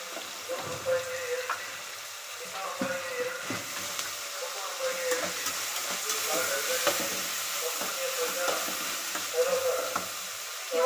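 Garlic paste sizzles and fries steadily in hot oil for a South Indian chitranna tempering, with a constant crackling hiss, some stirring, and a fairly close, moderately loud sound throughout.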